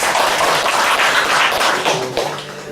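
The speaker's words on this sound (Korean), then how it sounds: "네, 박수해 주시기 바랍니다" Church congregation clapping during a certificate presentation, a loud, close, dense patter of many hands that fades slightly toward the end.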